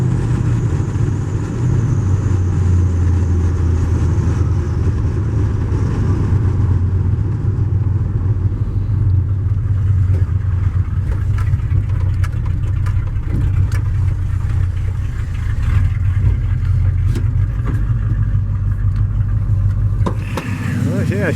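Car driving with a front-end death wobble, a loud continuous engine and road rumble with shaking and rattling throughout, heard from inside the vehicle.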